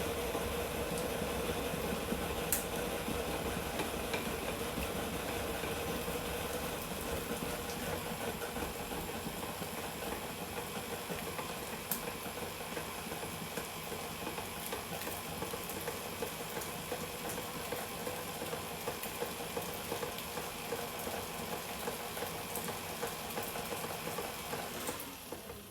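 An electric mixer beats cream cheese in a bowl while gooey butter cake is being made, a faint, steady whirring motor hum that runs without a break, with no talking.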